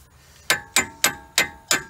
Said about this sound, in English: Let's try hammering it.